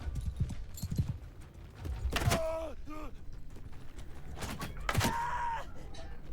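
Horse hooves clip-clop in the video game Mount & Blade Bannerlord, close rhythmic steps with a couple of brief tonal calls over them, with no talking.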